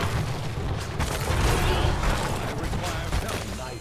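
A bomb in the Heroes of the Storm video game lands near a building, giving a loud rumbling boom with rolling bursts amid busy game battle noise and some voice chatter.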